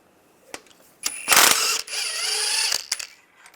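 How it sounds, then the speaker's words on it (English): A ratchet wrench with a 13mm socket clicks rapidly while backing out bolts on a 2007-2013 Chevy Silverado during rear main seal cover work, with close, loud bursts of ratcheting and a few isolated clacks. "Now I'm going to take a 13mm socket and take these two bolts out."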